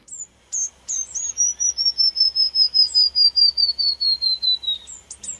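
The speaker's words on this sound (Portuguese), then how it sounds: "esse canto descendente que você ouviu é o do pula-pula subiador." A white-browed warbler sings alone, a rapid series of high, thin whistled notes that steadily descend in pitch, preceded and followed by a few sharp chirps.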